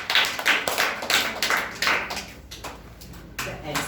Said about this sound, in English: Well done. Clap for Adi.